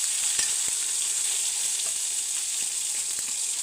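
Tomato, green chilli, onion and curry leaves frying in a pan give a steady, close sizzle with faint crackles and light stirring scrapes throughout, and no voices.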